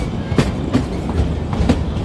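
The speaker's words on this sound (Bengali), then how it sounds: "ধরমপুর হিমাচল পার করে এবার আমাদের ট্রেন এগিয়ে চলেছে" Kalka–Shimla toy train running through Himachal hills between Dharampur and Kumarhatti, its wheels clacking over rail joints in a steady repeating rhythm, close and fairly loud with a constant rumble underneath.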